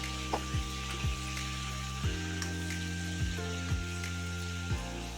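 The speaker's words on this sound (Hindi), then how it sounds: "और ये मैंने 2 लाल मिर्ची डालना भूल गई थी तो इसी के साथ डाल दे रही हूँ। इसको हम फ्राई कर लेंगे।" Spices and two dried red chillies fry in a pan for stuffed brinjal, with a low sizzle under regular knocks and thuds spaced about a second apart and a faint steady tone.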